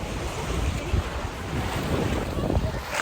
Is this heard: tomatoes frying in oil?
no